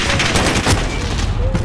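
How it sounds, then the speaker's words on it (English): Rapid gunfire in Call of Duty, a dense burst of overlapping shots and crackling rounds, loud and close throughout the short moment. "Got bullets coming from my left, from my right."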